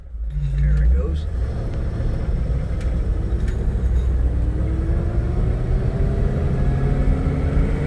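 A 1970 Hemi Coronet R/T convertible with a four-speed pulls away, its deep engine rumble swelling under acceleration and holding steady and loud, with a rising gear whine through the run.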